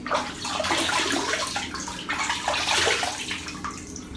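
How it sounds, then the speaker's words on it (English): Running water splashes close by as someone cups it to wet their face before a shave, a continuous sloshing, gurgling stream with a few louder splashes and no talking. "So here we go, I'll just wet my face."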